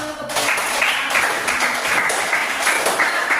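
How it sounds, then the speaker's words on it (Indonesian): A classroom of students claps their hands together in a sustained, dense burst of applause that holds steady from start to finish, loud and close, with no talking over it. "mari kita tepuk tangan"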